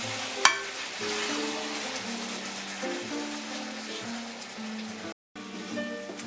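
Chicken pieces fry in a pan with a continuous sizzle and crackle, close by, broken by a sharp clack near the start and a short dropout near the end.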